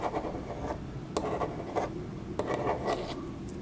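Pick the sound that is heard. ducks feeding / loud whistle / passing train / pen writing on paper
pen writing on paper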